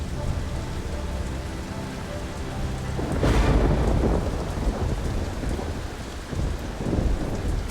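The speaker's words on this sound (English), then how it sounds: "winds and heavy rain thrash the city in the warm tropical air" Heavy tropical rain pours steadily over a city in a thunderstorm, and a loud rolling crack of thunder breaks out partway through and rumbles under the constant downpour.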